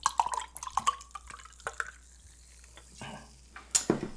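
Champagne is poured for a celebration, a series of close, bright fizzing pops and drips with a brief splash and clink near the end, no talking.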